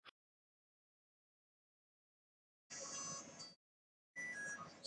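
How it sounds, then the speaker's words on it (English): A mobile phone ringtone sounds in two separate bursts, each bright and electronic, with a stretch of silence between them and no talking. "Sorry, that's my phone."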